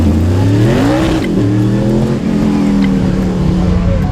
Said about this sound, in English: old 260Z Datsun. I call it a tractor because it is just a Datsun 260Z